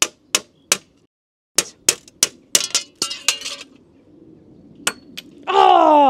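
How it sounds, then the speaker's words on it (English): Light taps and clinks on an old glass greenhouse pane during a restoration: a series of sharp, separate ringing knocks, some in quick pairs, ending in a harsher scraping sound. "I went to tap it again with a little protruding bit and I got a gouge"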